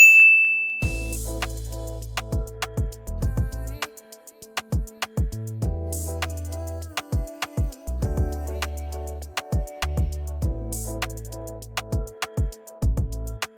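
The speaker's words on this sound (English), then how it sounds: "And bell ding for bell icon." Bright bell dings ring out repeatedly in quick, uneven succession over low tonal notes, clear and close.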